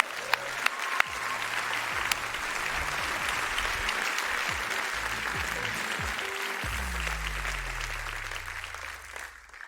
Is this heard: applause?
yes